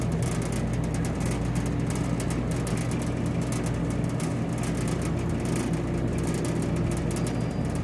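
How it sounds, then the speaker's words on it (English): A Tenney BTC temperature chamber's refrigeration compressor runs with a steady, loud low hum and broadband whir that hold evenly from start to finish, with no talk. "Now we heard our first compressor to come on."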